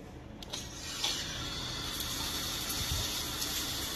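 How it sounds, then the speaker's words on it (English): Water runs from a drinking fountain at a roadside rest area. A faint, steady hiss and splash plays alone for a few seconds against outdoor background noise. "This rest area has potable water and a water fountain"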